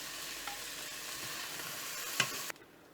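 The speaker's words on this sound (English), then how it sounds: "Now add the mushroom and fry for another 3 minutes." Oyster mushrooms stir-fry in a pan, giving a continuous close sizzle with a couple of scraping stir clicks before the sound cuts off near the end.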